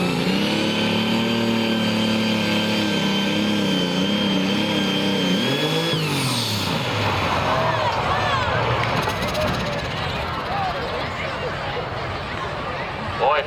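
A John Deere 6030 tractor at a truck and tractor pull drones with a loud, steady engine note, then its revs climb sharply before the sound turns rough and broken.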